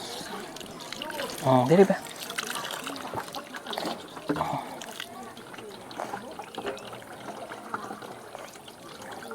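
Water is fetched and poured outdoors, with a short splashing pour near the start followed by faint trickles and drips, while people talk casually throughout.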